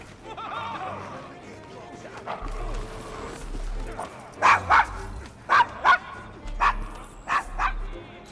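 A dog barks in a street scene in Assassin's Creed Syndicate, set in London's Devil's Acre, giving several short sharp barks in pairs and clusters over a low background murmur of game ambience and voices.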